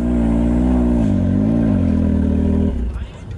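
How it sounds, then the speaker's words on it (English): A car engine with an exhaust leak idles with a loud, rough, sputtering rumble that fades out near the end, at a fast-food drive-through. "Sorry about the noise. It's an exhaust leak."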